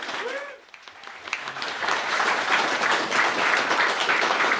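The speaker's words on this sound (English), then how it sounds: "So can we have a warm Glasgow Skeptics round of applause" Audience at an evening skeptics debate event in Glasgow breaking into a warm round of applause that swells after a brief voice and holds steady, dense and close.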